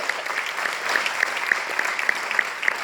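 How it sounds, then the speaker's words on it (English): Steady audience applause from a lecture crowd at a conference on rescued cetaceans and sanctuaries, dense clapping held at an even level for the whole stretch with no one speaking over it. "That clapping was for you guys."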